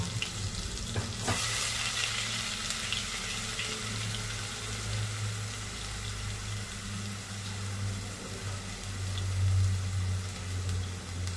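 Prawns frying in hot ghee for a kolambi curry give a steady, close, dense sizzle and crackle that runs unbroken throughout, with no talking.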